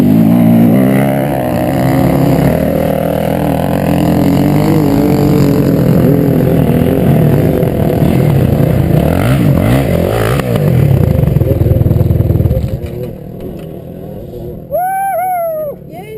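A motocross motorcycle climbs a hill, its engine roaring loud and close and laboring with rising and falling revs. After about thirteen seconds it drops away, leaving quieter sounds.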